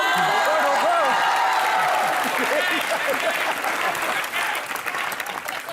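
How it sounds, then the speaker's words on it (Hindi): A studio audience at a comedy show breaks into strong applause with some cheering and whoops, loud at first and thinning slightly toward the end, with faint voices mixed in. "आज सिद्धू साहब के लिए ठोको ताली जरा।"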